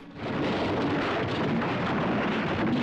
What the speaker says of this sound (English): Doesn't collapse with an explosion or anything, but a rather satisfying collapse there nonetheless.